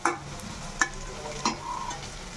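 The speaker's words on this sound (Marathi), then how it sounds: "इथे मी शिजेपर्यंत कांदा छान परतून घेतला आहे तेलामध्ये" Onion sautéing in oil, a quiet steady sizzle with a few sharp stirring taps, close and brief, without speech.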